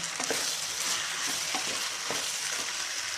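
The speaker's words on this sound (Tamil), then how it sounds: "இதை போட்டு ஒரு கிண்டி கிண்டிக்கலாம் இது நல்லா வதங்கட்டும்" Vegetables for a Tamil kuzhambu frying in a pan, a steady close sizzle broken by several soft scraping strokes of a spoon stirring through them, with no voices.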